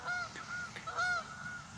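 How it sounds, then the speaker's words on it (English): A Canada goose honks repeatedly outdoors, a series of short, moderately distant nasal honks over a faint background hiss. "It's a noisy Canada goose."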